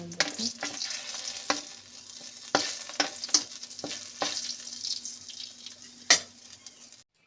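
Eggs frying in a pan for toast in a home kitchen, a steady close sizzle broken by repeated scraping stirs and one sharp clatter near the end, with no talking.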